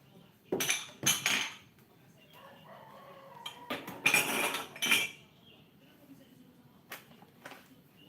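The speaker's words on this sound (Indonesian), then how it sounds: "Sekarang kita lanjut cuci piring dulu." Dishes, pots and cutlery are washed by hand, giving scattered loud clatters and clinks in irregular bursts, with quieter handling noise between them.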